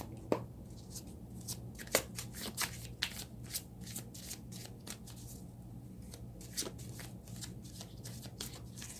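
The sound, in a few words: shuffling tarot cards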